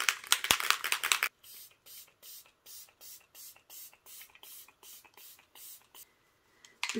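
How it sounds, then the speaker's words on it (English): Elf Microfine setting mist sprayed during a makeup routine: about a dozen short, evenly spaced pump hisses in a steady rhythm after a brief bit of talk, with a voice returning at the end. "I'm gonna do a little setting spray."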